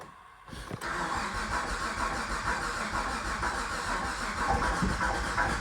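A car engine cranks and churns steadily with a faint whirring fuel pump hum, a continuous mechanical drone after a brief quiet start.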